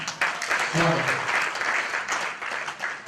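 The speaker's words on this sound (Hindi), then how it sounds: "पर अब इस माइक से मैं आप सबके दिल तक की यात्रा आपकी मोहब्बत भरी तालियों द्वारा पूरी करना चाहती हूँ।" Audience applause at a Hindi poetry recital, dense clapping from a crowd that swells early and carries on steadily for a few seconds, with some voices mixed in.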